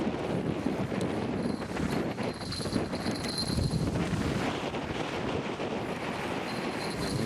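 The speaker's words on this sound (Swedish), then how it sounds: "Det blåser i varje fall helvete här." Strong wind buffets the microphone outdoors at a catfish-fishing spot on the water in Mequinenza, a steady loud roar and rumble across the whole stretch with no talk.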